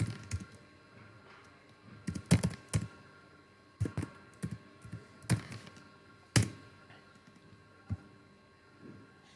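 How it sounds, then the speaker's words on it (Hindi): Close, irregular keystrokes on a computer keyboard, with sparse taps and a few louder clacks scattered through a quiet room. "जैसे मैंने वाटर बोतल यहाँ पे टाइप किया"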